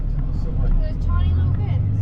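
A cattle truck drives past on a New Zealand road, its engine a low rumble close by under a person talking.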